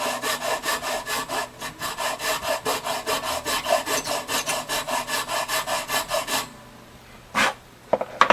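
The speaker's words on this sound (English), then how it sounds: "I'm going to have to file the slots down a little bit." Steady rhythmic filing of slots in a tusk nut on an extremely old Gibson jumbo acoustic guitar, quick even rasping strokes close up for several seconds, then stopping with a few light scrapes and taps.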